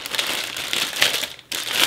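A plastic piping bag crinkles and rustles in the hands, with short close crackling bursts over about two seconds.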